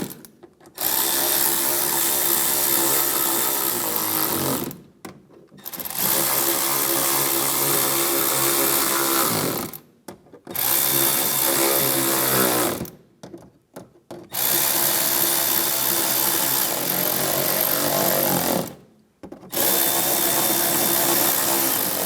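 A power tool drives screws on a 2015-2019 Lincoln MKC headlight in four long whirring bursts separated by short silent pauses, loud and close, with no talking.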